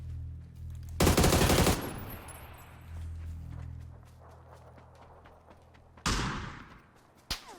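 Loud bursts of rapid automatic gunfire in PUBG, one long burst then a shorter one, with scattered shots and clatter between, sounding like game combat.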